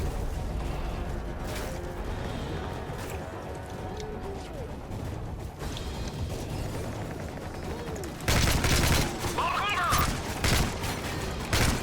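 Gunfire rattles through a Call of Duty Modern Warfare 3 match in dense, continuous bursts mixed with game effects. The firing grows louder and harsher near the end, and a player talks over it.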